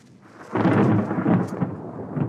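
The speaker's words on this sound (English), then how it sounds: "On that day, there was a lot of thunder, but not a single drop of rain." Thunder over an arid road region on the Colombia-Venezuela border: a sudden broad rumbling roll that swells loudly, then slowly fades into a lingering low grumble, with no voices.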